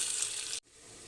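Onions frying in hot oil inside a pressure cooker, a loud close sizzle that cuts off sharply midway and returns as a quieter, softer hiss.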